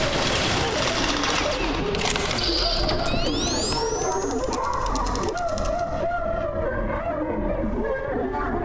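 A heavy machine being pushed in the game STASIS, heard as grinding and clanking mechanical noise with rising metallic whines midway, steady and close.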